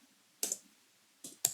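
A few sharp key clicks on a computer keyboard while typing a search, close and crisp, spaced irregularly with quiet gaps between, no talk.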